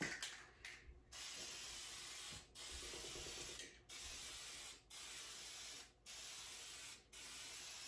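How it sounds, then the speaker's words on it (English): Minwax oil-based polyurethane topcoat is sprayed over dark-painted furniture, a steady close hiss of aerosol spray in long bursts broken by brief pauses, about six passes, with no talking. "I'm going to spray the MinWax polyurethane"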